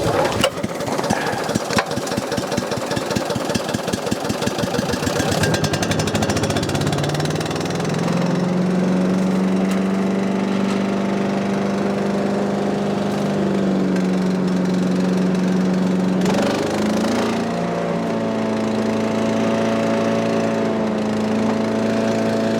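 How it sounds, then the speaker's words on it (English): A Briggs & Stratton engine on an Agri-Fab Mow-N-Vac leaf vacuum starts on the first pull with a rattling, sputtering catch, then settles into a loud, steady running drone that shifts pitch slightly as it revs. "let's see if this little Briggs & Stratton, let's see if it makes a liar out of me and it's hard to start, or if it cranks right up"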